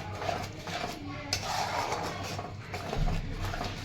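Grated paneer stirred into a pan for bhurji: a spatula scrapes and clinks against the metal pan in steady, close, moderately loud strokes, with no one talking.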